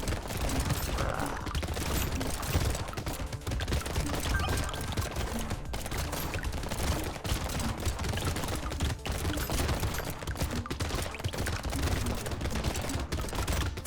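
Dense, continuous gunfire from a video game as an elite enemy is shot, rapid mechanical rattling shots running steadily for the whole stretch with busy game sounds layered underneath.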